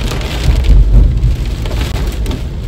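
Heavy rain pours down in a dense, steady hiss of drops on surfaces, close and loud, with low rumbling beneath and no voices.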